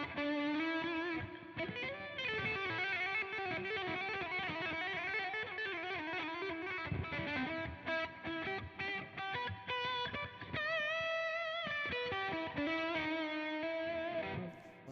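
Electric guitar played through delay and reverb effects, sustained chords and ringing notes layered with echoing repeats, steady and upfront for the whole stretch with no voices.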